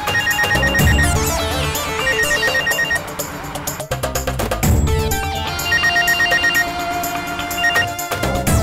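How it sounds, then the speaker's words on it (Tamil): A telephone rings repeatedly in a home, its electronic ringtone melody loud and continuous with no one answering, the tone cycling through the same tuneful pattern. "ரிங் போகுது"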